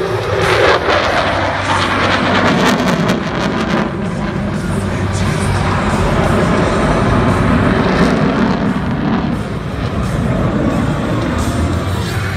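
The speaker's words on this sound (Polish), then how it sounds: "Nieprawdopodobnie dynamiczny samolot." Polish Air Force F-16 fighter jet flying a Tiger Demo Team aerobatic display, a loud, continuous roaring jet engine that swells and fades slightly over the whole stretch, with no talk.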